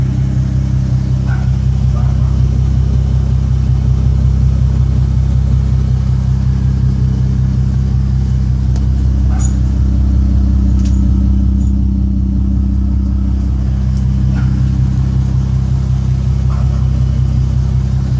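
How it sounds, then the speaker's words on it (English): Deep, continuous low rumble from a 2017 Ford Mustang V6 idling through an aftermarket exhaust, loud and close, steady throughout with slight swells and no speech over it. "it is pretty deep, and it rumbles pretty good"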